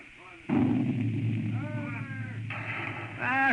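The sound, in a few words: cannon fire, 6-pound shot, sound effect in dramatization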